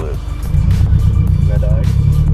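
A Subaru BRZ running on E85 fuel, driven at full throttle, gives a loud, steady engine roar with a strong low rumble that holds throughout, while people talk over it inside the car.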